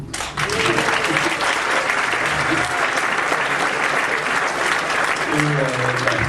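Dense, loud applause from a festival audience at a film screening presentation, continuous throughout with a few voices speaking faintly underneath.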